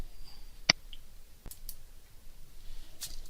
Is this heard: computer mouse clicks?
yes